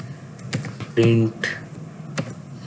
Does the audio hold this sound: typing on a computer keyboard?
yes